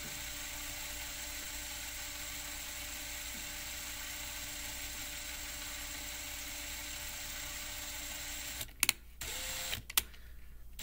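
A cordless drill winds a staggered fused Clapton vape coil, a steady, continuous motor whine with a faint tonal hum that runs for most of the stretch, then stops, followed by a few brief clicks and handling noises.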